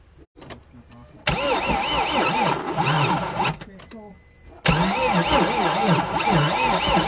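A T1N Mercedes Sprinter van engine cranks and fires, running loud and close in two bursts of rough idling with a brief drop in between; the starter and uneven running fill the scene with no voices.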